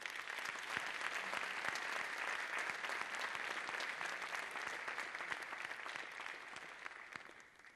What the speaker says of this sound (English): Let's start off by giving them all a great round of applause.